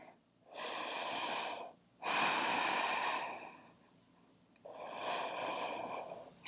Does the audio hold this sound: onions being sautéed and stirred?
no